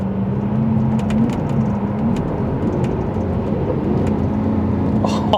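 Lamborghini Aventador engine on the move, a loud, steady, close drone with a low hum that holds level throughout, no voices over it.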